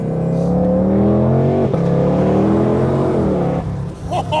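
A 760-horsepower 2022 Ford Mustang GT500 engine revs and accelerates loudly and steadily, its rising harmonic drone dipping briefly and then fading toward the end.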